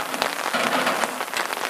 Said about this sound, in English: typical Scottish weather, started raining as we're filming